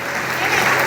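An audience claps on cue at a felicitation ceremony, producing a brief, dense burst of steady applause that holds level and swells slightly toward the end, with voices faintly mixed in.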